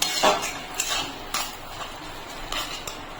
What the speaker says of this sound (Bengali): এক চামচের মতন ভিনেগার আর এক চামচের মতন সোয়া সস সামান্য পরিমাণে একটু চিনি দিয়ে ভালো করে মিশিয়ে নেব